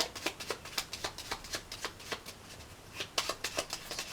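A petit Lenormand deck shuffled by hand for a love reading: a close, rhythmic run of crisp card riffles and snaps, with no talking.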